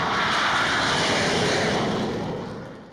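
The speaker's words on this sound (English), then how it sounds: "That was the sound of an F-16 making a pass over the runway at Tucson's Davis-Monthan Air Force" An F-16 fighter jet passes low over the runway at Davis-Monthan Air Force Base in Tucson, a loud, steady roar of broadband jet noise that holds for a few seconds and then starts to fade as the aircraft moves away.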